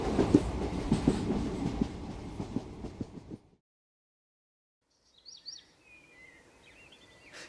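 A train runs on rails with a dense rumbling roar and rhythmic clatter for about three seconds, then cuts to near silence. Faint birdsong follows in the distance.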